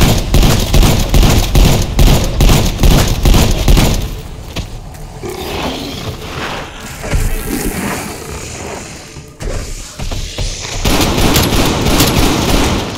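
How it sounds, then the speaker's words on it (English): Hand cannon firing in Call of Duty: Cold War's zombies mode, Forsaken: a fast run of loud, punchy shots in the first few seconds, then rumbling, scraping combat noise and another burst of heavy fire near the end. "Using hand cannon!"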